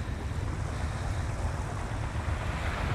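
Sea surf washes steadily along the shore at Hàm Tiến, Mũi Né, in Phan Thiết, under a low continuous rumble that fits the diesel engines of small boats and round basket boats, with some wind noise and no voices.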